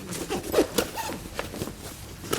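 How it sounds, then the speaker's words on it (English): A Konig tire chain storage bag is zipped shut in several quick, rasping pulls, close and clear, with faint handling noises between strokes. "Zip it on up."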